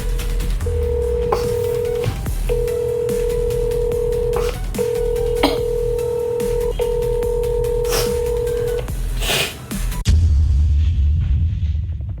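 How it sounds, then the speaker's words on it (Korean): A telephone call is placed, with a quick series of dialing tones followed by repeated steady ringback tones in an even on-off pattern over faint room noise, then a sudden low thump and rumble near the end. "전화해 걸어볼게요."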